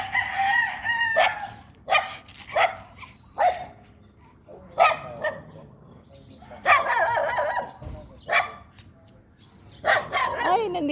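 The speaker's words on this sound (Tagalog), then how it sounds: "Tumatahol yung isang kaibigan nilang aso." A pet dog barks in sharp, separate bursts during a morning walk, with a rooster crowing nearby among the barks and other animal calls in the open-air background.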